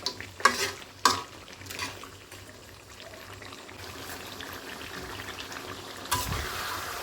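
Country chicken being braised in a pan with raw onion sprinkled in: a few sharp clanks and stirring scrapes early on, then a low steady frying hiss and bubbling, with one more scrape near the end.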